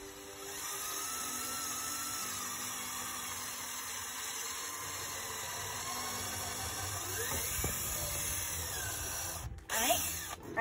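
A power drill drives screws into a wooden bluebird birdhouse, whining steadily and close for most of the time, then rising and stopping with a few short clatters at the end; voices are faint underneath.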